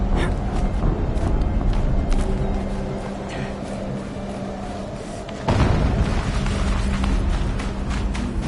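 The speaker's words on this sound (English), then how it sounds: "An explosion." Explosion in the video game Horizon Zero Dawn: a sudden heavy boom bursts in partway through, over a steady low rumbling game ambience, then the rumble continues loud afterward.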